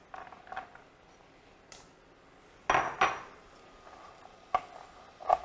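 Walnuts are roughly chopped with a knife on a kitchen board, giving sparse, uneven knocks and clatters, a few sharper louder strikes among softer taps, close by with quiet gaps between.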